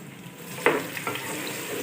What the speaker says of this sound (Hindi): टमाटरों को भी अच्छी तरह से फ्राई कर लेंगे